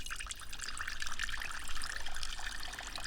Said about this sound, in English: Now I water it with rainwater.